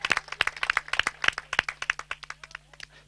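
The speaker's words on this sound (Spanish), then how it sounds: "Fuerte el aplauso para ellos" Scattered hand claps at a Spanish intercultural community tournament award ceremony for the third-place team, a small crowd clapping irregularly and quite close, thinning out toward the end.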